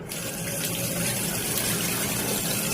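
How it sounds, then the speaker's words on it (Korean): Water poured over a book to soak it, a steady, close splashing gush of running water that continues evenly throughout with no talking. "책을 물에 적십니다."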